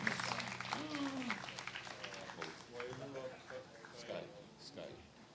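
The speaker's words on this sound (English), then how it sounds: "Give her another round of applause" Applause from an audience at a Hawaiian song concert, a moderate wash of clapping that runs through the whole stretch while voices and other crowd noise mix in over it.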